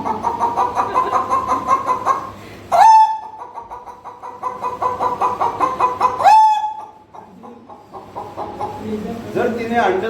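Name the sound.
man imitating a village rooster's long crow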